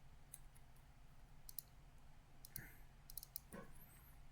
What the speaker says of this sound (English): Double click here.